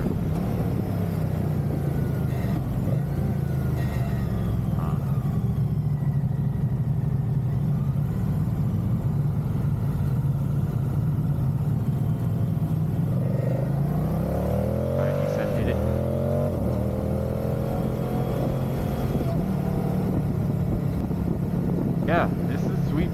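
A Moto Guzzi motorcycle engine runs steadily at a demo day, a low continuous drone with small revs partway through, while people talk over it nearby.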